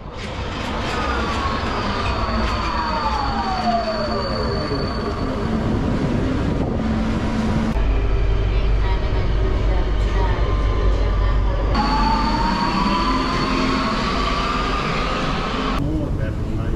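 Budapest metro train in motion, a loud continuous rumble with rising and falling wheel squeals and a brief pause around the middle, heard from inside the car with faint voices.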